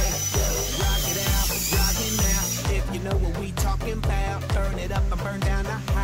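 A small battery-powered i-scrub 21b mini scrubber motor whirs steadily at close range, its buzzing drone mixed with rapid rhythmic scrubbing clatter; a brief quieter shift partway through.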